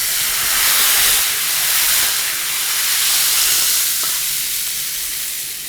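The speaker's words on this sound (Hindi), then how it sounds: "अब इसे हम यहां पर छोंक देंगे।" Steady loud sizzling and hissing of hot oil and spices tempering in a pot for sambar, continuous throughout without any talking.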